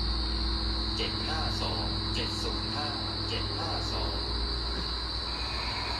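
A steady low electrical hum from a vibrating electric fan runs throughout a food court, with a constant high whine above it and faint voices murmuring in the background.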